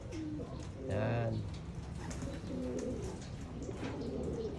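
Pigeons in a loft coo in low, rounded phrases, one bird close and prominent, with other birds and faint background activity around them.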